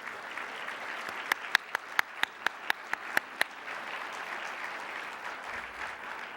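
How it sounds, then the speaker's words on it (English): Applause for previous Quinn Award recipients at a chancellor's community breakfast, a soft wash of crowd clapping with a run of sharp, evenly spaced individual claps standing out near the middle before fading back into the general patter. "If you could please stand, and we'll give you a round of applause."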